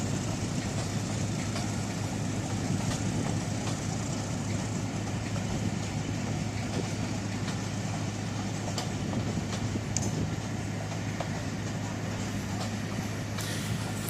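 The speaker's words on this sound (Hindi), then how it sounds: "हम उस वक्त आन पहुँचे हैं जिस वक्त ट्रेन यहाँ से गुज़र रही है" A train rolls past along New Margalla Avenue after rain, a steady continuous rumble and rail noise at a moderate distance, faint and unbroken throughout.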